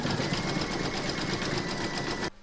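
An embroidery sewing machine stitches an in-the-hoop banner, a fast, even mechanical whir with rapid needle pulses, close and constant until it stops abruptly at the very end.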